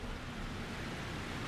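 Lyrium waterfalls in Dragon Age: Inquisition rush with a steady, even roar of falling water, fairly soft and unbroken, with no voices over it.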